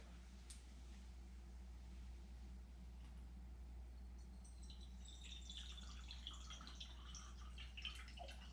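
Water trickling through a cold brew coffee filter, a faint steady drip and patter that grows busier and brighter partway through, over a constant low hum.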